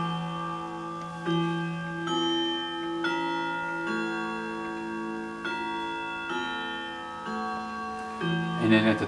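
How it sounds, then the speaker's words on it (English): A floor clock ticks steadily while its bells ring out a quarter-hour chime, a sequence of clear sustained tones struck one after another and left ringing, with a brief cluster of louder strikes at the end. "It's going to chime every quarter hour"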